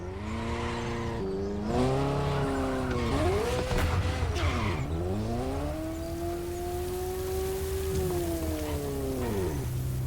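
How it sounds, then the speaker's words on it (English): A Ferrari GTO driven in The Crew Motorfest racing game gives a loud engine note that climbs and falls through several gear changes, with tire noise underneath and no talking. "the first Ferrari in the supercar bloodline, the Ferrari GTO"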